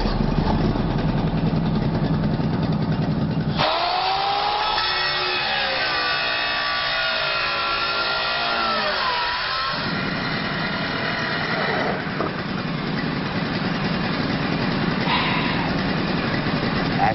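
A new generator engine running in a colonists' shop, a steady droning hum that holds throughout, with faint shifting whines and rubbing noises on top and no clear talking.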